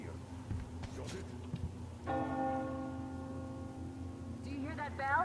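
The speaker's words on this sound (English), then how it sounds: "Do you hear that bell?" A church bell tolls in Metro Exodus, its resonant ringing entering midway and sustaining with a long shimmering decay, while a voice speaks near the end.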